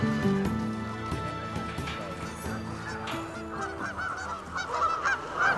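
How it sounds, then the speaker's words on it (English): Trumpeter swans near a lake at Crescent Lake National Wildlife Refuge give repeated honking calls, some close and others farther off, in uneven bursts over faint background noise. "Mike attempts to photograph elusive trumpeter swans near the Crescent Lake National Wildlife Refuge."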